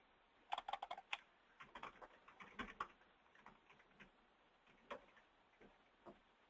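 Typing on a computer keyboard to log in, a quiet close burst of irregular key clicks, busiest early and then thinning to scattered taps.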